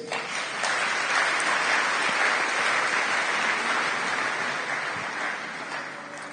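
A church congregation applauds together, a dense, steady clapping that swells quickly and holds for several seconds before easing slightly, filling the room.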